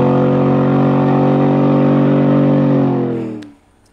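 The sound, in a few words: street race car launching in second gear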